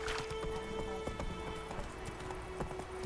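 Hooves of the horse Roach in The Witcher 3 video game, a quiet rhythmic clip-clop at a galloping pace under a constant low game-music drone, fairly faint throughout.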